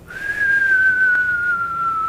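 A voice whistles a single sustained falling tone imitating an incoming artillery shell, rising in quickly and gliding slowly downward for about two seconds, close and clear.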